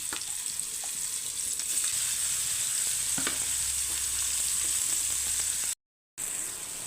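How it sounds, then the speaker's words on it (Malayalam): Fish frying in hot oil with curry leaves in a pan, a loud continuous close sizzle with small crackles and pops, briefly cut to silence near the end. "അപ്പോൾ നമ്മുടെ മീൻ ഒരു സൈഡ് ഞാൻ മൂപ്പി മറിച്ചിട്ടത്"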